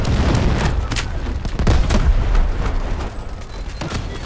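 Booming grenade blasts and scattered gunfire from the Delta Force shooter game fill the scene, a dense, continuous battle din with several heavy low thumps rising and falling throughout.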